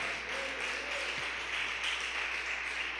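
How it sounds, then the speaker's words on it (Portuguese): A church congregation applauds during a Portuguese-language evening service, a sustained, even wash of clapping that fills the room at steady loudness for several seconds. "aplaudir ao Senhor com alegria"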